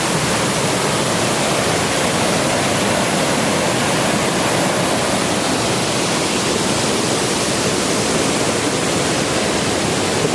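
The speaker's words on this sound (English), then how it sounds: "the waterfalls just keep coming and coming" A tall waterfall on Efate, Vanuatu pours down in a loud, constant roaring wash of white noise that never lets up.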